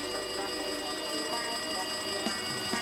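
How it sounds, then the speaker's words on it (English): A telephone bell rings steadily in the video game Danganronpa 2: Goodbye Despair, amid busy, noisy game sounds, with occasional thumps and clatter in the background. "It looks like that phone is ringing."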